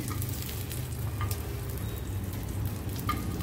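Pieces of rawas fish, coated in garlic, coriander and mixed masala, frying in a hot pan with a steady close sizzle and a few faint stirring taps, no voices.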